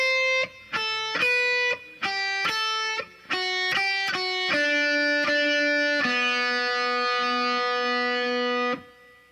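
Clean electric guitar picks out a riff, a series of distinct plucked notes and chords that ends on a long ringing chord, played alone and close.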